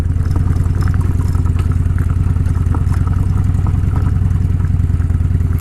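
A Harley motorcycle climbs a rough, treacherous road, its engine thumping loud and close in a fast, steady pulse with clattering rattles over the uneven surface.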